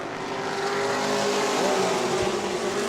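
Race cars roar into turn one at New Smyrna Speedway during a family fun night event, a dense, continuous engine drone holding steady and loud throughout with no talk.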